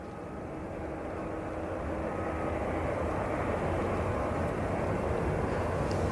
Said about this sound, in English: Next out is an Air France A380 to Paris.